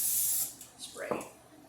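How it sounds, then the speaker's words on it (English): Cooking spray from a can hisses onto a frying pan in one short close burst, followed by faint handling sounds and a quiet voice. "I forgot to spray my pan, so I'm just gonna give it a quick spray."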